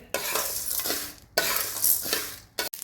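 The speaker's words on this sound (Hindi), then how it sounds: "अब इन सबको हम एक साथ भून लेंगे। धीमे आंच पर हमें भून लेना है।" Chutney spices dry-roasting over a low flame while being stirred with a utensil, giving steady close scraping and soft sizzle with occasional light clinks against the pan, pausing briefly twice.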